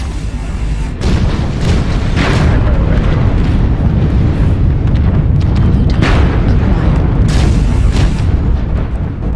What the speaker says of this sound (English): I have been firing in these AC2s like crazy